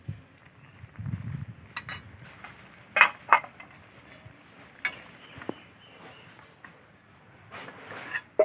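A pot of boiled green jackfruit comes off the stove in a village kitchen, with sparse metallic clanks and knocks of cookware spread across a quiet background, plus a soft rustle early on.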